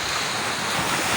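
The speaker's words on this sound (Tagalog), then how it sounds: "lakas ng alon" Strong surf at Boracay Beach, a dense continuous roar of crashing waves with wind buffeting the microphone, loud and unbroken.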